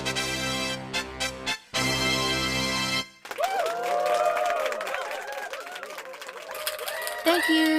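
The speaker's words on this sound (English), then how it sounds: "Thank you for the applause" Crowd applause and cheering, a busy burst of clapping and excited voices that follows a few seconds of loud sustained tones and runs on to the end.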